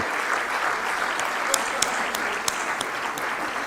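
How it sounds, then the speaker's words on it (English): Loud, dense applause from a conference audience closing the inaugural session of the CII India-Europe business and sustainability event, a steady wash of many hands clapping throughout with a few sharper claps standing out. "a loud round of applause as we end the inaugural session."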